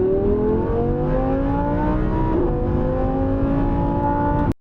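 Sports car, either an Audi R8 V10 Plus or a C8 Corvette, launching hard from a standstill with wheelspin, its engine note climbing steadily through the gears, loud and close, alone without talk, cutting off abruptly at the end.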